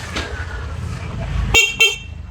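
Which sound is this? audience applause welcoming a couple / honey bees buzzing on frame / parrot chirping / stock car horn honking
stock car horn honking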